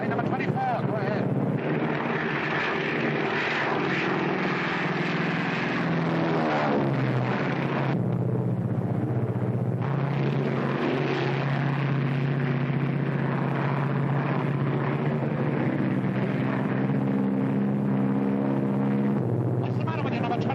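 A WWII aircraft engine drones loudly and steadily in flight in a 1943 war movie, a dense continuous roar that dips briefly midway, with voices heard over it.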